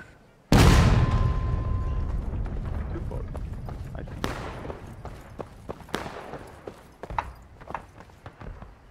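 A Civil War artillery cannon fires with one loud, close boom in the War of Rights video game, followed by a long rumbling decay and scattered distant musket shots and cracks.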